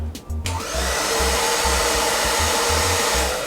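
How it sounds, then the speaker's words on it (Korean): A hair dryer blows hot air to lift the hair at the part for volume, starting up after a brief moment and then roaring in a loud, steady whoosh with a faint low pulsing hum. "여기에 드라이기로 열을 준 다음 놔줍니다"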